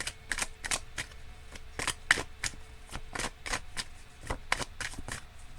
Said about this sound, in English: Let me pull another one of these cards.